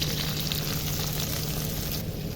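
Green chillies and a large onion sizzling in hot mustard oil in a pan, a steady close, dense frying crackle throughout with no talking.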